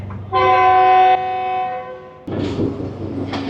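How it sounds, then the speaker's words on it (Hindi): A loud, sustained passenger train horn blares nearby at a Pakistani station for about a second, then fades into the low rumble of rail cars moving. "आखिर हमारी ट्रेन का भी हॉर्न हो गया"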